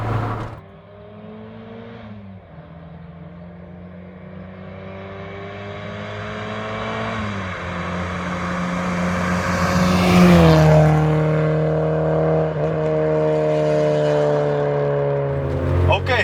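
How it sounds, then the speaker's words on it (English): Inside a moving VW Golf Mk2 with a 2-litre 16-valve engine, the engine drones steadily and climbs in pitch through the gears, with loud revving that swells and eases under continuous road noise. "So we're now in Golf 2 2-liter 16 valve."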